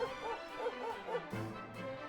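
A dog in a fighting scene gives quick yipping barks and whimpers in short bursts, fairly close, with a thud partway through.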